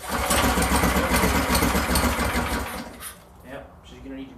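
A Predator 212cc engine swapped onto a Phatmoto bike clatters and runs loudly up close for a few seconds after a pull-start attempt, then dies away as people speak over it.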